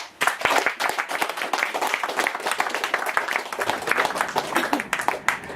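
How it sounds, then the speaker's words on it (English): An audience applauds for Tony, with dense, continuous clapping holding steady and fairly loud for several seconds. "A round of applause for Tony, please."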